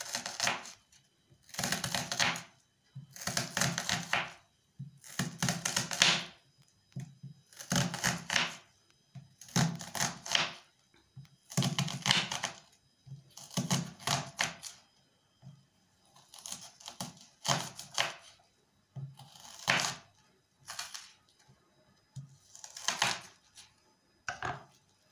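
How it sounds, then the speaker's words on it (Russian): Steady rhythmic chopping of a knife through an onion into half-rings on a cutting board, bursts of quick cuts separated by short pauses, close and fairly quiet. "Сначала я разрезаю луковицу пополам."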